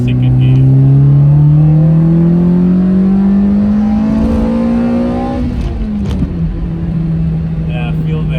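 Toyota Altezza with a 3S-GE engine pulling in second gear, a loud close engine drone rising steadily in pitch, easing near the middle, then dropping back to a lower hum.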